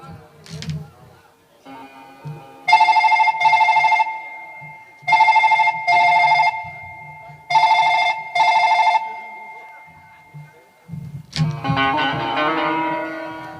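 A telephone rings in a Kannada stage drama. Three close, loud bursts of an electronic ring, each a quick double pulse, are separated by short pauses. Speech starts at the very end.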